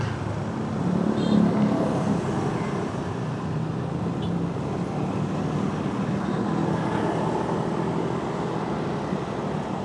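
Dense road traffic crawls along a congested highway between Merak and Tangerang in Indonesia under hot sun, a steady continuous rumble of car engines heard from inside a vehicle, with no clear talk.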